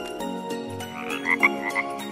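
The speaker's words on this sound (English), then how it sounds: "Frog." A frog croaks in a short burst of raspy calls, near and moderately loud, with no voices over it.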